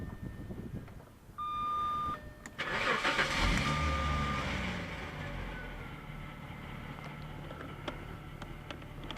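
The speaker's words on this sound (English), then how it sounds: "I'm gonna start the car and show you the lights." A Jaguar XJ40 engine cranks and catches, then settles into a steady idle with a faint electronic beep, recorded close up with no talking.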